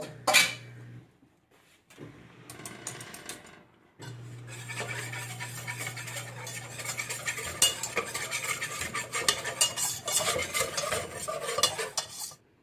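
Oil and flour stirred together in a pan to make a roux for vegan red enchilada sauce, with a spoon scraping and clinking steadily against the pan amid a low sizzle, briefly pausing before continuing.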